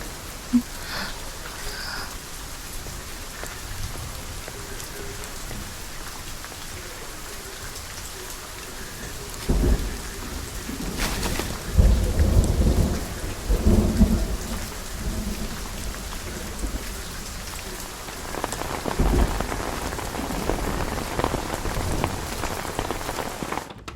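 Steady rain pours throughout, with rumbles of thunder rolling in around the middle and again near the end.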